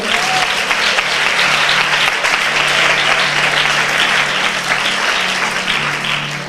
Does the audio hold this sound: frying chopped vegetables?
no